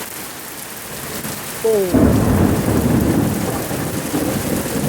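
Heavy rain pours steadily in Sochi as a thunderclap booms partway through, the downpour a dense hiss that swells louder after the thunder; a person speaks briefly.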